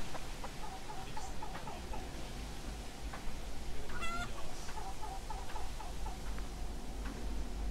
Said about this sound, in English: Hello, chicken.